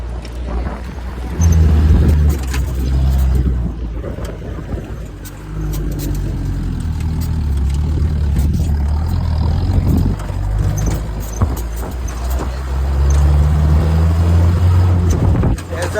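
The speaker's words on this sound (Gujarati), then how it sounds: "ગાડી અત્યારે જમ્પ કરવાના છે" A vehicle on a desert safari through the sand dunes near Jaisalmer drones loudly and steadily, its engine swelling and easing as it climbs and drops, with wind noise and occasional voices over it.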